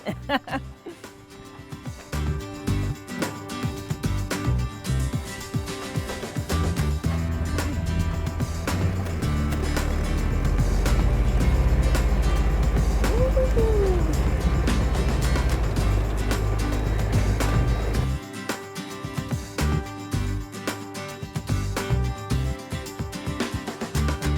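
A hay ride wagon pulled through farm fields in New Haven gives a steady low rumbling drone that swells loud in the middle, with people chatting and laughing over it.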